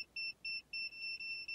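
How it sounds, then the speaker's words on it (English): An OBD2 programmer plugged into a 2018 Ford Fiesta Mk8 with SYNC 3 gives a series of about six short, clear electronic beeps in a steady rhythm against a quiet background. "and the programmer beeps."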